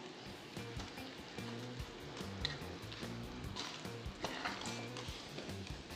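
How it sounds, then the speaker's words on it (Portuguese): Chopped frozen bananas simmer in caramel syrup, giving a soft, continuous bubbling sizzle with scattered pops and a low rhythmic rumble underneath, steady and fairly quiet. "Agora é só deixar as nossas bananas aqui cozinhando aqui um pouquinho com a calda."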